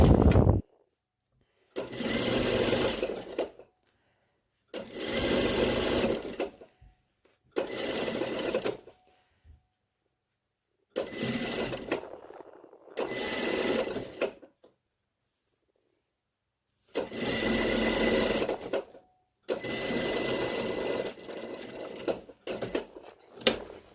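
A sewing machine stitches a 1 cm seam on a blazer, backstitching at the start and end, running in about seven loud, rapid bursts separated by short silences.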